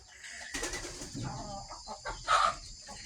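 Chickens flap their wings in a quick flurry, with soft clucking calls and a sharper squawk near the end, faint and somewhat distant, on a farm before dawn.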